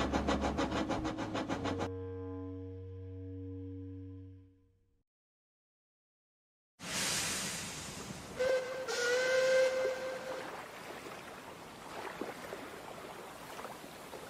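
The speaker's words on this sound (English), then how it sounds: "Wait, was that Emily's whistle?" Long steam engine whistle blast from an animated tank engine, loud and sustained for about two seconds, then fading into hissing steam and quiet, followed by a burst of rumbling and chatter.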